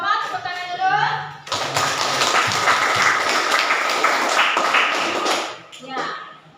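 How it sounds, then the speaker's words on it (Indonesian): A classroom group claps after a student presentation, a burst of brisk hand clapping lasting several seconds that starts abruptly after a spoken remark and fades out, with voices before and after. "Tepuk tangan dulu."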